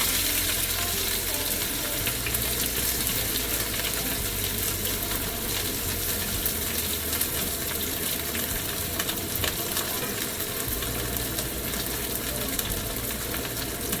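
Chopped onion and dalle chillies frying in a pan after fenugreek seeds, a dense continuous crackling sizzle that stays loud and even from start to finish.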